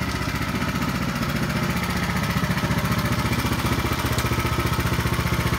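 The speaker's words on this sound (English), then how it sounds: "we've got the power rake over here idling" A power rake's small engine idles steadily nearby on a lawn, a constant chugging putter with an even rhythm and no voices.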